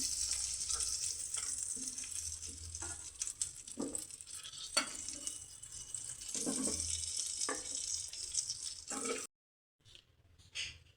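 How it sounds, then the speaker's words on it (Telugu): Drumstick pieces fry in oil in a pan, a continuous close hiss and sizzle broken by occasional stirring scrapes, dropping briefly to silence near the end. "ఈ విధంగా ఫ్రై కావాలండి మునక్కాయ ముక్కలు"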